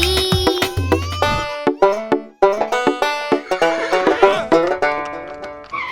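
Animated horse whinnies in a children's Hindi rhyme, bright harmonic neighs in quick repeated bursts, loud and close, set over a bouncy musical backing with clip-clop accents.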